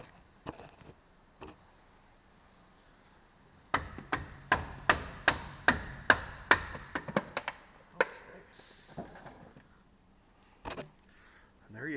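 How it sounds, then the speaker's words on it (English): Metal tool tapping and prying a stuck rear brake pad from the caliper of a 2016 Ram 1500: a quick burst of about a dozen sharp, close knocks in an uneven rhythm, with a few scattered taps and scraping before and after. "we'll have to give it a little bit of prying and a little bit of tapping"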